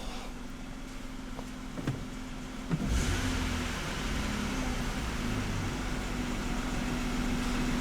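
A Nissan car with a 3.3-liter engine, being test-driven around a parking lot after a coolant temperature sensor repair, idles low, then pulls away and cruises with a steady, moderately loud engine hum heard from inside the cabin.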